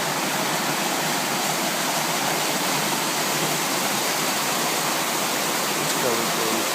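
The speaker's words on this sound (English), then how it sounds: "Here's the water I'm next to." A mountain stream on the Beaver Brook trail of Mt. Moosilauke in the White Mountains rushes close by, a steady, unbroken roar of flowing water.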